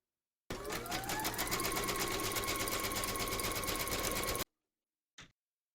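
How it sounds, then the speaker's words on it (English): An embroidery machine stitches a fabric placement outline with a fast, even whir-and-tap for about four seconds, then stops, followed by a brief faint click. "Pop your hoop into your machine and stitch round number 1"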